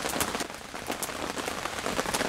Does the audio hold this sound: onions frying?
no